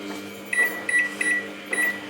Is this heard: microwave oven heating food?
yes